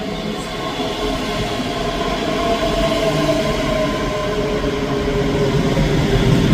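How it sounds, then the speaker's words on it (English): A ScotRail train, the 11:04 service to Dundee, pulls into platform 2 at Edinburgh Haymarket station with a loud, steady rumble that builds slightly as it draws near, heard alone. "the train is arriving at platform 2 is the 11:04 service to Dundee"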